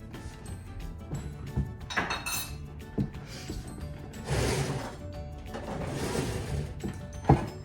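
A spoon clinks and scrapes against a bowl as curry powder is stirred into chicken salad, giving several bursts of stirring with clatter and a sharp knock near the end, close and fairly loud, with no talking.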